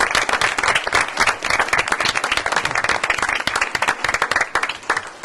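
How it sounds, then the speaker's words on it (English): Loud, steady applause from an audience at a Board of Education meeting as a graduating class is presented, dense clapping filling the whole stretch without a break and no talk over it. "And with a round of applause."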